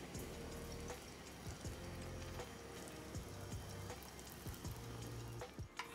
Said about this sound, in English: A few minutes later, kokuto was almost melted. I keep simmering down with low heat.